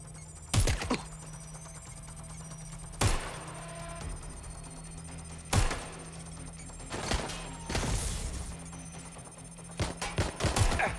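Gunfire in the video game Watch Dogs: Legion: several separate bursts of sharp shots and rapid volleys spaced a few seconds apart, loud against a quiet humming background.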